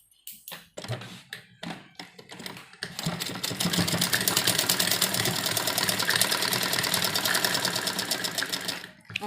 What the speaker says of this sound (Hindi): और यहाँ पर सिलाई लगाएंगे।